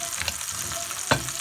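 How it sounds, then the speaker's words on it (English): Beef short ribs sizzle in a pan on the stove top, a close, steady frying hiss with a few sharp pops and one louder crackle near the end. "my meat's in there sizzling"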